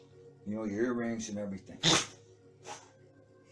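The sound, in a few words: sneeze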